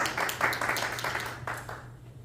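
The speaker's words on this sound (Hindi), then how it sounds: "अपने लिए जोरदार तालियां बजा" Scattered, modest applause from a Pakistani Urdu-speaking church congregation in California, a thin patter of hand claps that thins out and fades within a couple of seconds over a low steady hum.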